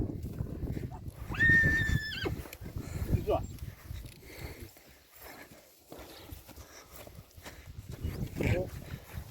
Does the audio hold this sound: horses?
yes